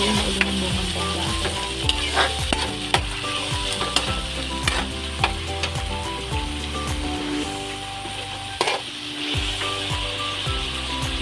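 Kangkong with black beans stir-frying in a pan, a steady close sizzle broken by regular scraping and clanking strokes of a spatula, with no talk.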